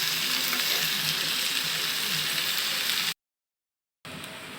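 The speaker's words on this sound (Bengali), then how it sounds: "চাল ডাল ভালোভাবে ভাজা হয়ে গেছে" A dense, steady sizzling hiss of rice, masoor and mung lentils frying in a pan runs loud and close, then cuts out abruptly before briefly returning.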